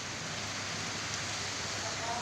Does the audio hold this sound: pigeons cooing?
no